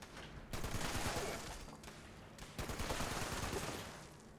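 A big gun fires in long sustained bursts of rapid shots in Fallout 76, with brief gaps between volleys and no talking.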